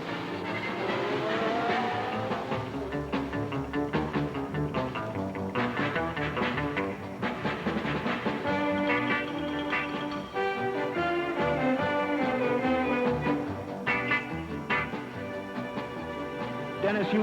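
Formula One race cars of 1967 roar around the Mosport circuit during the Canadian Grand Prix, engines rising and falling in pitch through corners and the back straight, loud and continuous beneath a commentator's voice.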